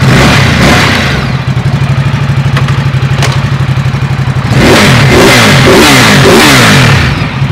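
A big motorcycle fitted with an Akrapovic exhaust revs up close and loud, with a rapid, throaty pulsing, repeated sharp throttle blips, and a brief dip before it surges again.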